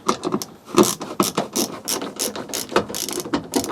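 Ratcheting clicks as a metal screw holding the interior grab handle is undone inside a Nissan Micra K11, a quick run of close, rapid mechanical ticks with short pauses, no voices.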